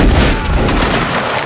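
Dense, roaring burst of massed musket fire from an infantry line in a line-battle video game, loud and sustained across the whole moment with booming low rumble and no gaps.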